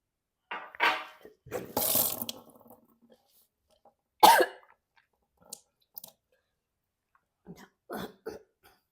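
Repeated coughing and retching bursts from a person purging water during Kunjal (Vaman Dhauti) yogic cleansing without using fingers, with a loud spluttering gush followed by scattered faint coughs and pauses, close and with no talking.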